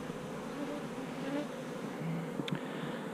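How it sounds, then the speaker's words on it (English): Honey bees buzz busily around backyard hives, a dense, continuous droning hum of many insects at low volume, with one brief closer flyby near the end. "Man, them bees are just cranking like crazy."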